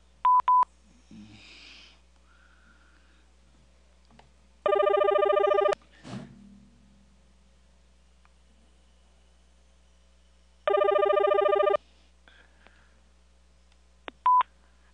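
A telephone rings twice on a call, each ring a loud, sustained electronic burst about a second long with a pause between them, along with short dial tones and faint background clicks.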